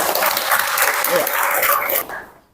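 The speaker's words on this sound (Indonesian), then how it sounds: "tepuk tangan untuk teman-teman kita" Classmates applaud together in a school classroom, a dense burst of clapping that holds steady and then quickly fades out near the end.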